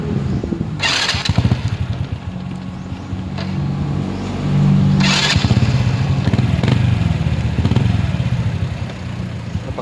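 A motorcycle engine cranks and fires, then settles into a close, loud, uneven idle, with a couple of sharp bursts as it catches.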